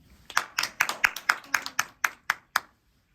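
Clapping of thanks to God at a church testimony gathering: around eleven sharp, close hand claps in a quick, slightly uneven rhythm, ending abruptly in silence.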